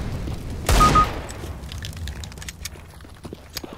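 A grenade blast in the shooter game CS:GO lands as one loud, short boom, followed by a quieter rumble and scattered footsteps and clicks from gameplay.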